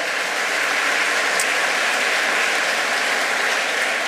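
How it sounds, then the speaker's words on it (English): Steady, dense applause from a concert audience at the Lord Mayor's Community & Heritage Concert, a sustained even roar of many hands clapping with no talk over it. "So give the two, uh, John Hennessy and Paddy O'Brien uh, a round of applause"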